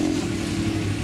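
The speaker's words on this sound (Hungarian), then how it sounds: "aminek az alapjárata gyönyörű" A motorcycle engine idling quietly at a motorcycle meet, a smooth, steady low hum heard up close with no revving.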